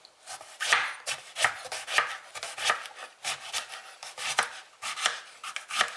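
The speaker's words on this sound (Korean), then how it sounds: "그리고 가지는 비스듬히 썰어줍니다." A knife slices an eggplant diagonally on a cutting board in a quick, regular series of crisp chopping strokes, close and distinct, with no voices.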